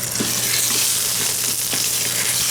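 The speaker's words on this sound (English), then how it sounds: "So we'll let that sear a bit. That needs to sear a lot." Lamb shanks searing in a hot pan give a loud, continuous sizzle and crackle at close range, with a few brief pops and no voices.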